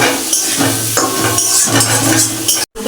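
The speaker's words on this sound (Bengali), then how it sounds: "মশলাগুলো ভালো করে আলু থেকে কষিয়ে নেবো বন্ধুরা" Spices being stir-fried with potatoes in a pan, a loud close scraping and clattering of a utensil against the pan in repeated strokes over a soft sizzle, with no talking.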